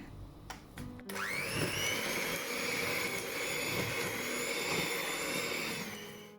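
An electric mixer beats margarine and sugar for a coconut butter cake, starting after a few short taps and then holding a loud, steady high whine with a churning undertone.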